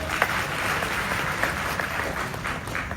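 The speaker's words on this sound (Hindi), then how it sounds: "ताली बजाओ।" Crowd applauding at a political rally, steady clapping throughout with a few louder bursts, moderately distant and continuous with no speech over it.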